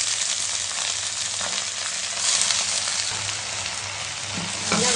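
Manathakkali greens, onions and dried red chillies fry in hot oil in a pan, giving a steady, loud sizzle and crackle that lasts throughout with no talking.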